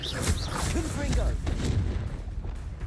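A Confringo blasting spell going off in Hogwarts Legacy, a series of heavy booming impacts layered with sharp whooshing spell effects, loud at first and thinning out toward the end.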